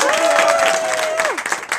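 A Renaissance faire crowd applauds a volunteer named Luke coming up to help a performer, a brief burst of clapping with a held whistle or cheer riding over it that drops away, the applause thinning out near the end.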